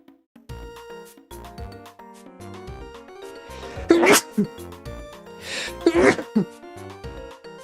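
A person sneezes twice, each a sharp explosive burst following a quick inhale, set among soft background music and small mouth and throat noises.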